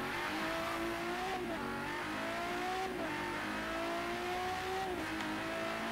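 A GT race car in Forza Horizon 3 roars at high speed, the engine climbing through repeated upshifts with a steady loud drone and brief dips between gears.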